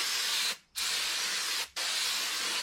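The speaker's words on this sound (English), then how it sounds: "Get out your brake cleaner and hose this off." Brake cleaner sprays from an aerosol can onto a new Ram truck front brake rotor in three loud, close hissing bursts separated by two short pauses.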